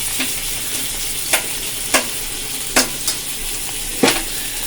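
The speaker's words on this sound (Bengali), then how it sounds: "মশলাটা দেখো আমি কষিয়ে নেব ডিম আলুর সাথে" Spices sizzle in a pan with fried egg and boiled potatoes, a constant hiss broken by several sharp scrapes of a spoon stirring the mix, close up and without talk.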